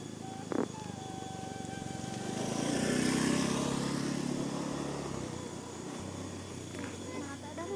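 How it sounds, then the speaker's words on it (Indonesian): A motorcycle passes along a village road, its engine drone swelling over a few seconds and then fading, while people nearby talk casually under and around it. "Awas kan motor tuh"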